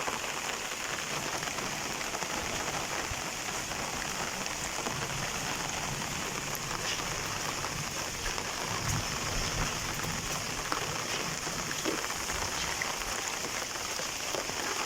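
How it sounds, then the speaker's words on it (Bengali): Steady rain pours down onto a flooded, waterlogged road, a dense continuous hiss of drops hitting standing water with no talking. "বৃষ্টির শব্দ"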